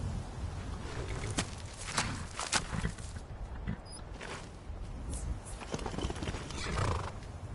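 Horse in a Skyrim-style fantasy video game neighing and whinnying while its hooves clip-clop steadily along, fairly close and clear, with no talk over it.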